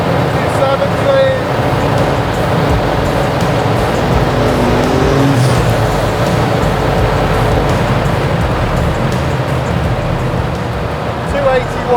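Donkervoort P24 RS lightweight supercar at very high speed, around 270 to 280 km/h, with a loud, steady roar of engine, wind and road noise throughout, with a voice talking over it.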